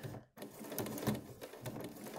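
A sewing machine stitches a DIY removable wire mask, giving a quiet, close, rapid mechanical whirring and ticking that is cut by one brief pause near the start.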